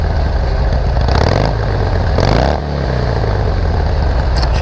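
A Harley-Davidson XL883L with a modified exhaust revs up close and loud, its deep rumbling idle rising in two throttle blips before settling back to a lumpy idle.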